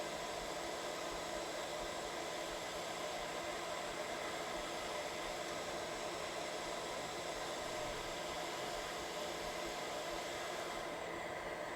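Hot air rework station blowing heated air over an iPad Pro 12.9 5th gen logic board to lift a chip, a steady broadband whoosh of airflow held for about twelve seconds with no talking.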